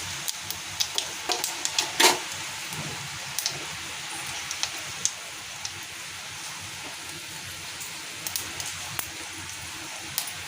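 Panch phoron spices crackle in hot oil in a pan, a soft continuous sizzle dotted with small sharp pops and a few louder spits, no voices.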